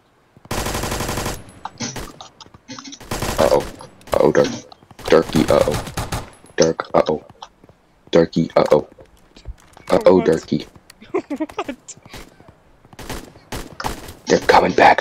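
Bursts of automatic gunfire aimed at the player in the Roblox military shooter BRM5, with loud rapid volleys separated by pauses and a person talking between and over the shots.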